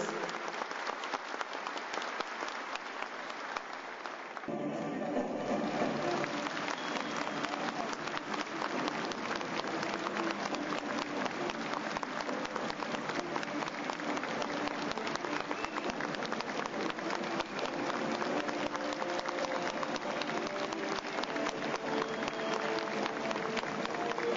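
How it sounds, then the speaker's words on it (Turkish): Sustained, dense audience applause fills a gathering during a visit in Eskişehir, starting quieter, then swelling into a loud, even roar of many hands that carries on steadily throughout. "Alkışlarla yerlerini uğurluyoruz."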